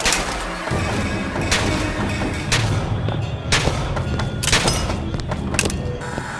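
Gunfire in the shooter game Bioshock Infinite, a rapid series of loud cracks and crashing impacts with clanking mechanical noises close up, faint voices underneath.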